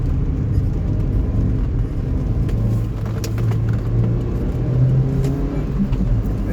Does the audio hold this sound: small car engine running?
yes